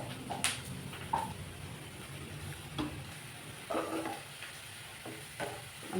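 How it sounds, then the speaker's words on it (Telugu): Chicken curry frying in a pan, steady soft sizzle with intermittent scraping stirs of a spoon against the pan, close and quiet, no voices. "మనకి ఎర్రగా వేగిపోయినాయండి."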